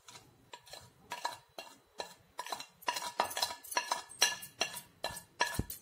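A spoon stirs a spiced momo filling seasoned with garam masala and salt in a bowl, giving a regular series of soft scraping and clinking strokes, close and fairly quiet, with no talking.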